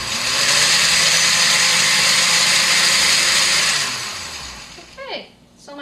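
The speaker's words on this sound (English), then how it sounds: "I love this blender." An electric blender pulses a sauce of onion, ginger and garlic in one long loud whirring burst that winds down near the end, followed by a short vocal sound.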